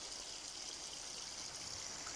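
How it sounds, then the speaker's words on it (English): A small stream of water trickles steadily through a narrow course recently cleared of leaves and sticks outdoors, a soft continuous burbling heard alone at low level. "Just been working on this little water course here"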